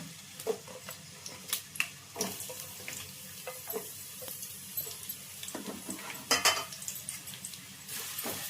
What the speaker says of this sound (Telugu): ఇప్పుడైతే ఉల్లిగడ్డలు వేసేస్తున్నా